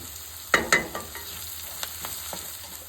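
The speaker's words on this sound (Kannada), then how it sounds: "ಪೇಸ್ಟು ಹಸಿ ಸ್ಮೆಲ್ ಹೋಗೋವರೆಗೂ ಈ ಥರ ನಾವು ಎಣ್ಣೆಲಿ ಫ್ರೈ ಮಾಡಬೇಕು." Spice paste of cumin, ginger and garlic with curry leaves frying in hot oil for avarekalu usli, a steady low sizzle broken by a few sharp spits and stirring clicks, close and alone.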